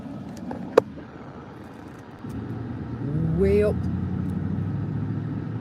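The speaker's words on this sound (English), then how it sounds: "lots of cars coming" Cars passing on a road heard from inside a moving vehicle, a steady low rumble of traffic that swells as one vehicle goes by, with a brief knock early on.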